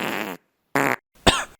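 Three separate farts in quick succession, close and fairly loud. The first two are buzzy and tonal, and the third is sharper and sputtering. Short silences fall between them.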